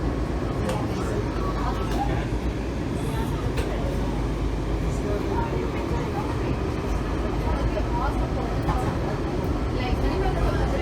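Washington Metro Kawasaki 7000-series train running between stations toward L'Enfant Plaza, with a steady loud rumble and rail noise filling the car throughout, heard from inside.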